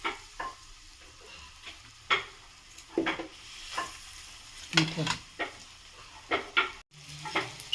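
Surmai fish fries in a pan in a Konkan home kitchen, with a soft background sizzle broken by repeated sharp stirring clatters and pan knocks. No one speaks.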